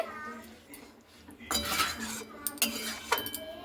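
A spoon stirs fish curry seasoned with garam masala in a cooking pot, giving intermittent metallic clinks and scrapes against the pot. The sounds grow busier in the second half, close up with no talking.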